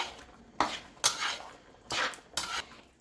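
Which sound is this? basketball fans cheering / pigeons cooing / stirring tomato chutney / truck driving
stirring tomato chutney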